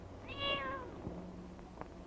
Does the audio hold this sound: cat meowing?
yes